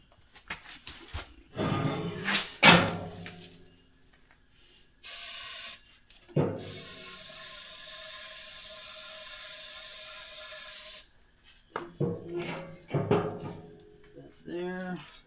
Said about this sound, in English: so we're going to spray on the tube